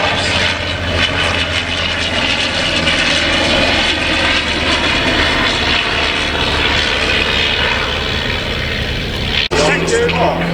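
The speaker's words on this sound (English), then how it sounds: "Following it round, the triplane, the first free reproduction aircraft superbly built for the collection" A reproduction triplane flies at a vintage working air show, its propeller engine droning loud and steady throughout with a commentator speaking over it, then cutting off abruptly near the end.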